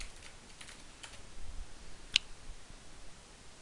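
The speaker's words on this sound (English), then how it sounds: "so I just go ahead and type in a" Quiet close keystrokes on a computer keyboard while entering a test message into a radiogram form, a few soft scattered taps with one sharper click, against low room noise.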